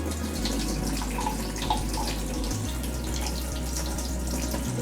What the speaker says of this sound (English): So I have to drain this water, hot water, from this spaghetti